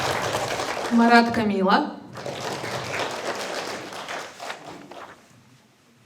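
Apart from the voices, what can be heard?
audience applause for announced names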